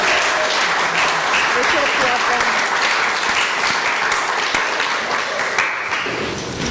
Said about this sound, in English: Let's give another wonderful round of applause.